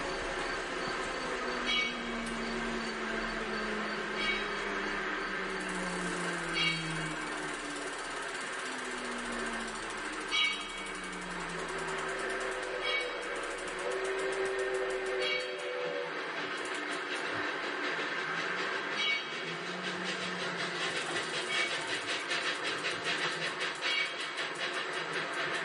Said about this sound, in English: after the train has gone by